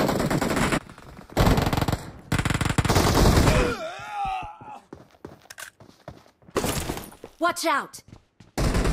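Bursts of automatic gunfire from the BGMI mobile battle royale game, loud rapid volleys in the first few seconds followed by scattered shots, with a player's voice calling out partway through.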